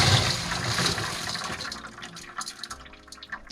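Tree agate stones being dumped out of a rock tumbler barrel after the polishing stage, a loud gush of water and slurry with stones rattling that tapers into scattered trickles and drips.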